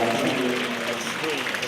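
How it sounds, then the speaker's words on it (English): Liberal Democrat activists applaud as Nick Clegg takes the stage in Sheffield on election night, a steady wash of clapping under a reporter's voice throughout. "a round of applause, as you can hear there, from Liberal Democrat activists as Nick Clegg takes to the stage"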